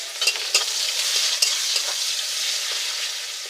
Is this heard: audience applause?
no